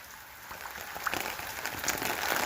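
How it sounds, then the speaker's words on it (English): Steady rain falling outdoors over a home vegetable garden, a dense continuous patter with a few louder drops standing out, close and fairly soft, no voices. "It's raining."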